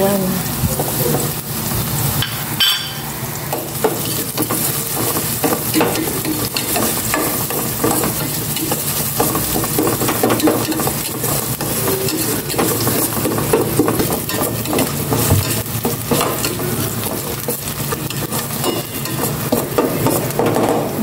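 Onions and pork sauté in a hot pan with a dense, loud continuous sizzle and constant stirring scrapes, heard close up with no talking.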